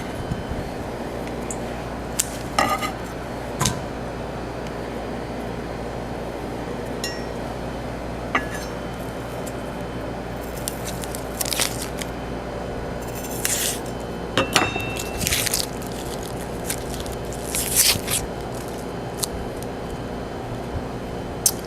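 Knife slicing through an onion on a cutting board, scattered crisp cuts and board taps over a steady background hum, sparse and close.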